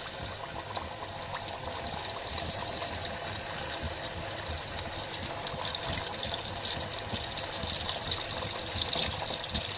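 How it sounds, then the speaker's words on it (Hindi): Raw mutton chops fry in hot oil in a kadhai, giving a steady, loud, close sizzle that runs without a break for the whole stretch. No voices are heard. "कढ़ाई में मैंने ऑयल गर्म कर लिया, इसमें मैं इन चॉप्स को कच्चा ही फ्राई कर लूँगी"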